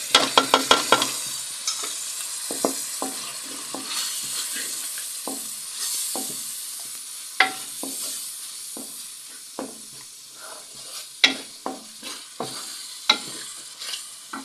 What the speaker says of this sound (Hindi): अब मसाले को हम अच्छी तरह भूनेंगे।